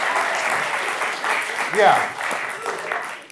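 Live audience applause for a volunteer returning to his seat at a magician's stage show, steady clapping with a voice briefly rising over it and an exclamation from the performer partway through.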